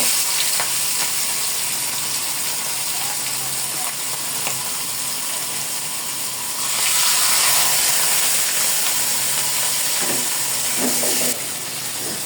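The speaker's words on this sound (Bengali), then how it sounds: "আগে মাথাগুলো ভেজে নেই, ভেজে রান্না করব।" Katla fish heads frying in hot oil with eggplant curry to follow, a steady close sizzle and crackle that swells louder for a few seconds midway, with occasional spatters and no talking.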